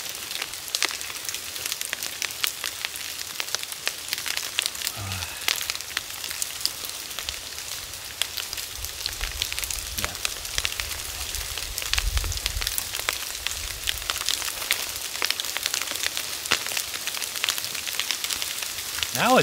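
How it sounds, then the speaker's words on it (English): Steady patter of hail and icy wintry mix hitting surfaces, a dense hiss of tiny impacts with scattered sharper ticks, continuous and fairly close. "It sounds like hail. It's like, like a wintry mix is what they call it here"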